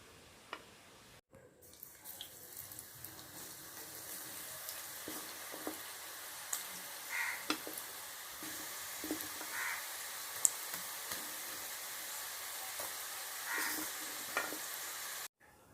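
Masala peanuts (masala kadalai) deep frying in hot oil, a soft continuous sizzle with scattered light pops and occasional stirring clicks, fairly faint and close, no voices.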